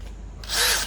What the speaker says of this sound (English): Now if I go normal drill mode,